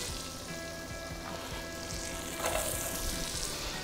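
Carrots and potatoes fry in melted butter in a pot, giving a soft continuous sizzle with faint crackles, steady and fairly quiet, with no talking.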